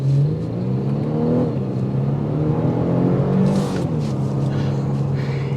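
A 2023 Genesis G70 3.3T in Sport Plus pulls away hard from a green light, its engine note climbing steadily through the revs and then settling into a strong, even drone, loud and close throughout.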